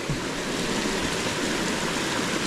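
Steady rushing water of a forest stream flows continuously, a broad even wash with no voices or other distinct sounds.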